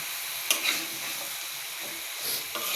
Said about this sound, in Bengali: এখন এটা ভালো করে মিক্স করতে হবে নিচ ওপর ভালো করে মাখিয়ে নিতে হবে